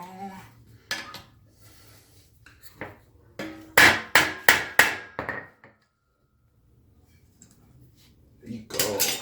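A hammer taps on car suspension parts during a swap of AWD CR-V rear suspension onto a Civic: a quick run of five sharp, ringing metallic strikes, with quieter handling clatter and scattered knocks before and after.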